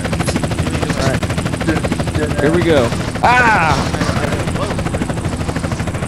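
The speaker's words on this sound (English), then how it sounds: "There's a helicopter right above us." Steady, loud helicopter rotor chop hovering overhead in GTA San Andreas Multiplayer, running continuously throughout while someone talks and exclaims over it.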